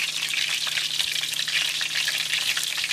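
Battered shrimp tempura fries in hot oil in a pan, a dense, continuous crackling sizzle that stays close and steady throughout, with a faint low hum beneath.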